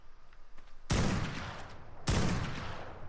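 Sniper rifle shots in a 2 vs 2 PvP Rebirth video game: two loud, sharp reports about a second apart, each trailing into a long rolling echo, with no talking.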